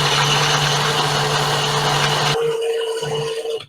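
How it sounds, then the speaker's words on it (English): A blender whirs loudly and steadily while mixing a Sumatra Kula tiki drink, then slows and sputters in uneven bursts before cutting off, with no talking. "throw it into the blender"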